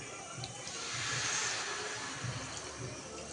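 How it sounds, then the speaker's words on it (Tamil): Water poured into chicken gravy in a pan, a steady broadband splash and hiss that swells in the middle and then settles, with faint background voices. "நல்லா தண்ணி சேர்த்துக்கணும்."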